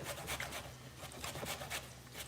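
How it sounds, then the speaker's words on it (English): Citrus peel scraped over a microplane rasp in quick, close, rhythmic rasping strokes, each a short scratchy burst, with no talk. "I'm using a microplane"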